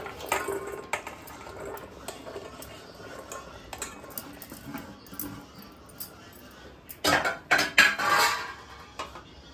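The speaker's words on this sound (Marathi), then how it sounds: "हे आपण आता भाज्या घेतलेल्या आता एकत्र करूया सगळ्या।" Chopped vegetables for dum bhaji are mixed together in a metal vessel. Soft scraping and light knocks give way near the end to a louder cluster of clattering utensil strikes, with no talking.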